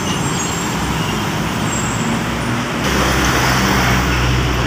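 Scania truck driving in roadside traffic, a loud continuous rumble and rush of engine and road noise that swells slightly as it passes close by.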